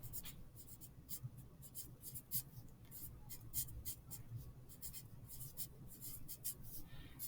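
Quiet scratchy strokes of a marker or chalk writing on a board in a lab-equipment lesson, short irregular bursts repeating steadily with no voice.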